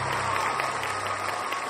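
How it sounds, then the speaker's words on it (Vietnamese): Audience applause at a live Vietnamese cải lương folk-opera show, a steady dense wash of clapping that fills the whole short stretch at moderate loudness with no break. "vỗ tay lớn hơn nữa được không ạ"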